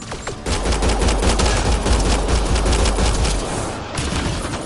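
Sustained heavy gunfire from Mass Effect: Andromeda, a dense rapid burst of loud shots with deep booming low end running almost continuously for several seconds, no talk.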